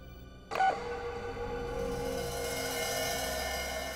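An answering machine gives one short, sharp beep before message recording starts, followed by a steady tonal hum of the open line.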